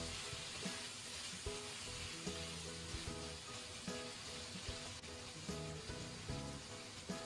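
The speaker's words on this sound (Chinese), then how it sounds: "再翻炒一下。" Pork belly stir-fried in a wok just after cooking wine is poured in, a steady soft sizzle with rhythmic scraping and clinking of the spatula against the pan, fairly quiet and close.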